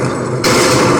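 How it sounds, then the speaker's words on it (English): Explosion sound effects play through an InaTeck BTSP-10 Bluetooth speaker, first a dull rumbling boom, then a sudden louder burst of blasts that stays loud and dense to the end. "the explosion sounds I used in this video"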